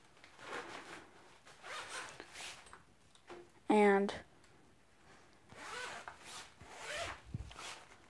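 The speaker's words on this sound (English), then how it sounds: "Then you're going to get the zipper." A zipper on the cover of a studio light reflector is pulled in one quick, loud burst partway through, with someone talking before and after it.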